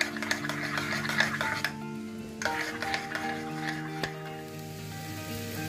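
Cabbage is mixed in a pan with roasted cumin powder, crushed black pepper and cinnamon powder, a soft sizzle running under scraping strokes and a sharp clink of metal against the pan, fairly quiet and close.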